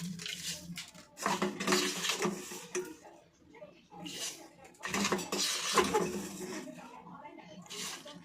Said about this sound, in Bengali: চার চামচ চিনি দিয়ে এটাকে একটু নেড়ে গুলিয়ে একটু হালকা ঠান্ডা করব।